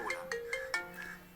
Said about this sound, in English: Let's wait till the ringtone arrives.